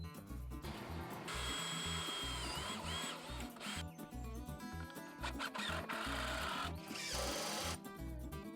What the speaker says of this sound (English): I use the ACQ approved exterior screws to fasten them into place.